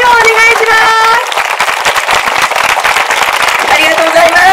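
A live event audience claps and cheers loudly and continuously after a special concert performance, a dense crackling wash of hands with crowd noise throughout.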